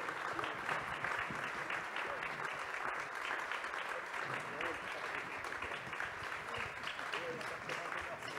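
Sustained applause from an audience at a civil society engagement event, dense, continuous clapping that holds steady and fairly loud from start to finish.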